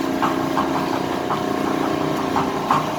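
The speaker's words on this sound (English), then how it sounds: "now the auger's running" A Denver auger machine running, heard as a steady, loud engine drone with faint periodic thumps as the flights turn, continuous and close, without speech.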